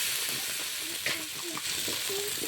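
Spices frying in oil in a pan for a country chicken curry with pumpkin stems, a steady close sizzle with stirring scrapes and a few clinks throughout, no talk.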